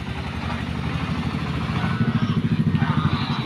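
A motor engine rumbles close by with a throbbing, pulsing idle that grows slightly louder and more rhythmic as it passes.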